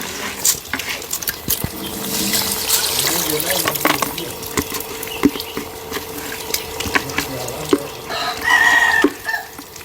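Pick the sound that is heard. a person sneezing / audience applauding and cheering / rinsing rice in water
rinsing rice in water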